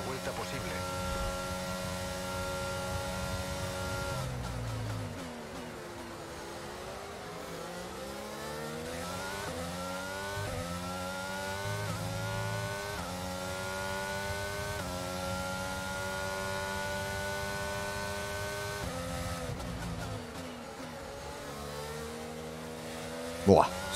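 Race car engine in the F1 22 video game, a steady high-pitched whine that climbs and drops through gear changes and cornering, loud and continuous for the whole stretch with a brief sharp burst near the end.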